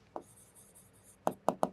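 Chalk or marker writes constraints on a board nearby: a single scratchy stroke, a soft rubbing pause, then three quick sharp strokes in a row, in a quiet room.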